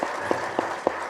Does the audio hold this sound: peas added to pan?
no